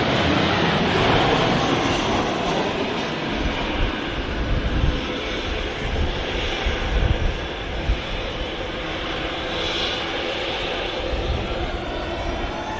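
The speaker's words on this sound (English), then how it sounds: "There you go, Ryanair just landed there." A Ryanair jet landing at Manchester Airport makes a broad, continuous roar of engines and rushing air over the whole stretch. It sounds moderately distant and steady, with faint background voices.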